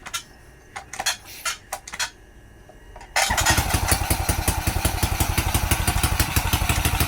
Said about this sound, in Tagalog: one click lang po siya at andar agad